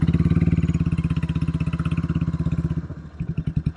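A Royal Enfield California Goan 411 motorcycle engine revs steadily in a rapid, even thump, then slows into a looser, uneven chug near the end, loud and close with no one talking.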